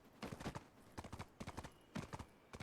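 Rhythmic clip-clop of a horse's hooves trotting at a steady pace in the game Black Desert Online, fairly close, in groups of quick beats with no talking.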